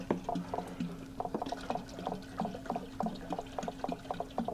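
Water glugging from a bottle into a rum mash, a steady run of bubbly pouring gurgles at moderate level with no talk over it.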